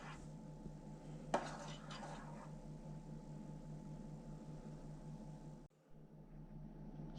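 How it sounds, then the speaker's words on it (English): Quiet, close scraping and knocking as varnish with flatting agent is stirred in a pot, a low steady rhythm with one sharper clink near the start and a brief pause toward the end. "I'm just giving the varnish a really good stir, make sure all the flatting agents are not at the bottom"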